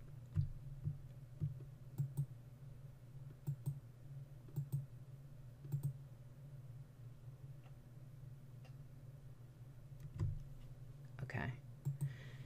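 Computer mouse clicks while photos are selected for a slideshow, sharp isolated clicks in an irregular rhythm, quiet and close, over a low background hum.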